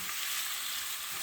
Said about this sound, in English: I'm just frying it for a little while.